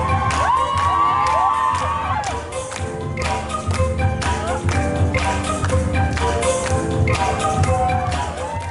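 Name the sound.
crowd shouting and cheering at b-boy dance event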